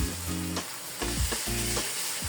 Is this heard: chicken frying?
yes